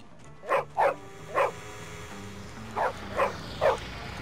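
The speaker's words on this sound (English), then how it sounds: "This dog is like right around the corner." A dog barks in the video game Bully, giving six sharp, mid-pitched barks in two groups of three, fairly close and loud over a quiet game background, with no talk.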